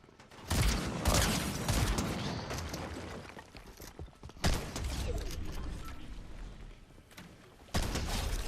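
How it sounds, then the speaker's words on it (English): Bursts of video game gunfire aimed at the player, loud sharp volleys with rattling mechanical clatter that repeat several times and fade between blasts, with no one talking over them. "Someone's shooting at me."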